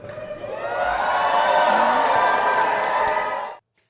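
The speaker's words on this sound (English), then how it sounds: "Protesters cheering after House Republicans here in Georgia scrap a plan to redraw election maps." A crowd of protesters in Georgia bursts into loud sustained cheering and whooping, swelling quickly and holding for a few seconds before cutting off abruptly.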